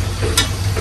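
Spices for a chicken roast fry in a pan with a close, steady sizzle and a short scrape of stirring partway through.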